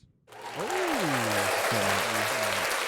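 Canned applause from a soundboard button, a loud steady burst of clapping and cheering that runs throughout, with a rising and falling tone sweeping over it.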